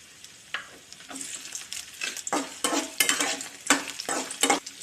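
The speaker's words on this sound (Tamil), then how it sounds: "எண்ணெயிலே போட்டு நல்லா வறுத்தரலாம்." Dried chillies, garlic and ginger fry in hot oil for a spicy chutney, giving irregular bursts of crackling sizzle that grow louder, with stirring scrapes and no talk.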